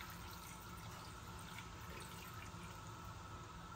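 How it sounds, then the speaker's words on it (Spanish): A full 250 ml glass of water is poured into a pot on the stove for a fish tagine, giving a faint, steady liquid rush with no talking. "una vez encendido el fuego, le echaremos el agua"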